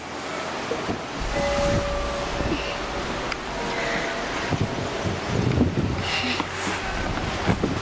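Steady wind rushes and buffets the microphone outdoors, a constant low roar with gusts, while people talk faintly underneath.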